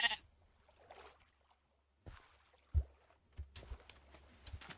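Sheep in the Minecraft video game bleat in a few short, separate calls with soft clicks and steps between them, and no talk.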